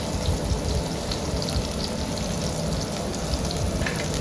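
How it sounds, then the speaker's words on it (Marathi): Finely chopped onion and two or three green chillies sauté in oil in a pan, giving a loud, dense, continuous sizzle with no pauses. "छान असं ते कांदा गुलाबी रंग येईपर्यंत परतून घेऊया"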